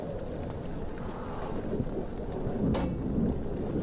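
Thunder rumbles through steady heavy rain during a storm in the horror video game Amnesia: The Dark Descent, with a sharp crack near the end swelling into a louder roll over the constant downpour.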